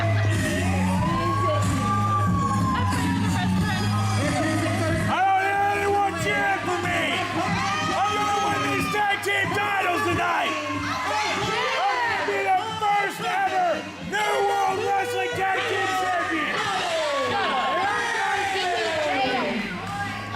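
Wrestling fans in an arena crowd cheer, shout and whoop continuously throughout, with loud rising and falling yells layered under a commentator's voice.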